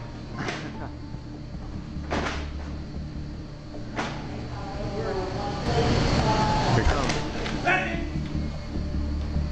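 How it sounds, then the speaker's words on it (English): Knocking on a walk-in freezer door in a grocery store in Tennessee: three sharp, evenly spaced knocks over a low steady hum, followed by people talking. "someone or something starts knocking on the freezer door"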